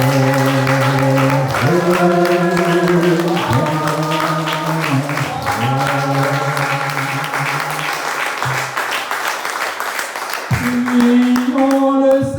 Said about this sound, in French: Applaudissons la Vierge Marie pour toutes les merveilles que Dieu a accomplies en elle. Applaudissons, plus fort encore.